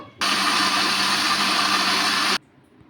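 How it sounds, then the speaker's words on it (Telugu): A mixer grinder whirs loudly and steadily for about two seconds while blending sago and green gram dosa batter, then cuts off abruptly into near silence. "మిక్సీలోకి అయితే వేసుకొని మిక్సీ పట్టేసుకుందాం"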